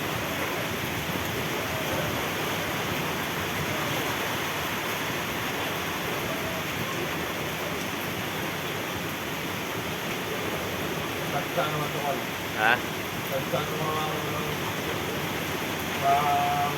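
Heavy rain and gusting typhoon wind at Real, Quezon roar as a constant broadband wash, with a brief voice heard faintly under the storm.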